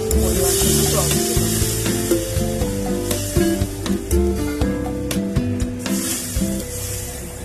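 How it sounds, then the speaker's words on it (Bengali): Water poured into a hot pan of fish curry with eggplant sets off a loud, steady sizzle, with stirring scrapes and clicks over background music throughout. "এবার আমি পরিমাণ মতো জল দেব।"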